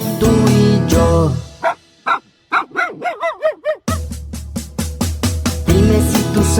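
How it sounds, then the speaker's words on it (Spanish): A dog barks in bursts of sharp woofs, some higher-pitched yips and short whimpers, loud and close, with a quieter pause in the middle before a run of rapid repeated barks. "Dime si tú sabes cómo hace el perro"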